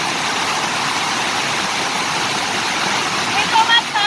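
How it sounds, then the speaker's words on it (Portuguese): A waterfall rushes in a loud, unbroken broadband roar at Cachoeira do Lucas near Primavera do Leste, Mato Grosso, heard close and steady throughout, with a brief faint voice near the end. "Como é que tá a cachoeira?"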